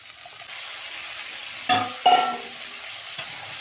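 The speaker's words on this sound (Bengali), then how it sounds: "ওর মধ্যে এই ফুলকপিগুলো দিয়ে দেবো একসঙ্গে কষা হয়ে যাবে" Cauliflower and fried potatoes are being stir-fried in a pan with turmeric: a soft continuous sizzle broken by a few sharp scrapes and clatters of the spatula against the metal, close by, with no talk.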